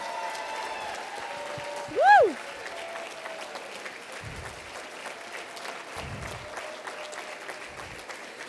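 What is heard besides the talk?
audience applause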